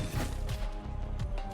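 Firework item detonating in the Risk of Rain 2 video game: several short, dull bangs at uneven intervals over a steady low game rumble, with no voices.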